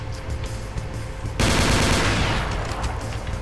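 Heavy machine gun in Brutal Doom, running on GZDoom, opens up in a sudden loud, dense burst of continuous rapid fire that starts partway through and then gradually tapers off.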